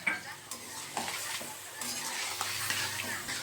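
Cauliflower cooking with a bowl of milk added for a yogurt cauliflower curry, stirred in a pan: a quiet, continuous bubbling sizzle with soft scraping stir strokes, no talking.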